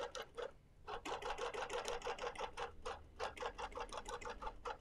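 A stitch-regulated quilting machine running a quarter-inch basting stitch on a Quilt of Valor gives a fast, steady, even patter of needle strokes, close and continuous with a brief pause near the start.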